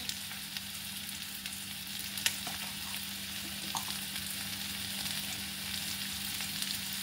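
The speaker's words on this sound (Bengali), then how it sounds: "এবার মশলাটাকে কষিয়ে নেব।" Bengali spice mix with sugar, Kashmiri chili powder and turmeric fries in a pan for muri ghonto, giving a steady close sizzle with an occasional faint stir or tap and no talk.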